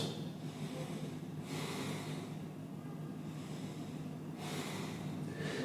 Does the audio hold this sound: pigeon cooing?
no